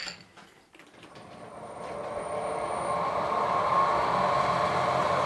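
A lathe cutting soft brass makes a steady mechanical whir and hum that builds and holds, with a thin high whine coming in partway through and no speech.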